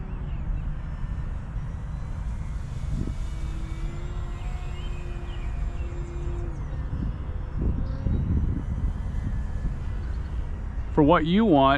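An E-flite Sportix 1.1m RC model airplane's engine drones steadily at half throttle, rising and falling as it passes, with people talking over it and wind noise.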